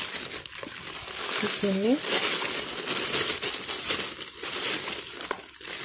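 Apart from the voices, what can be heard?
bag of sea salt being opened and crinkled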